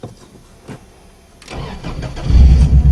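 A Subaru cold starts after sitting for weeks: a brief starter crank, then the engine catches about halfway through and settles into a loud, rough low idle close by, with no talk.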